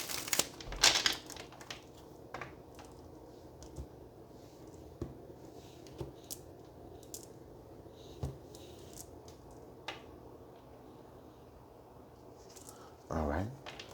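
Tarot cards rustle and crinkle softly in scattered flicks while being shuffled, with a brief louder riffle at the start and again near the end, quiet and close.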